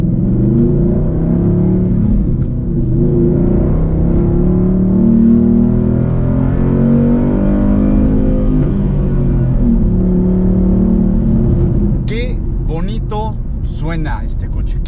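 A 2012-era Ford Mustang Boss 302 Laguna Seca V8 idles with a deep, steady, loud rumble throughout, close by, with a brief rev blip near the end and a voice talking over it.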